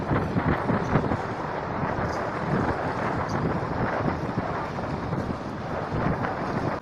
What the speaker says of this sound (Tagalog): Ang lamig talaga oh, kung maririnig nyo yung ano ng hangin oh.